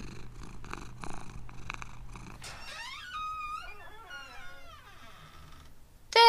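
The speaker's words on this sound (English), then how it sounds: "Where's the cat? Meow." A cat purrs with a low, rumbling pulse, then gives several rising and falling meows that fade into softer calls, ending with a sudden burst of noise. The sounds are close and clear.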